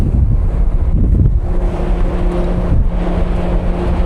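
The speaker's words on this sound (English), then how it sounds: "It's very windy out here." Strong wind buffets the microphone on the open stairs outside a Sunflower ferry's upper deck during an overnight crossing to Hokkaido, a continuous loud roar with low rumble and no voices.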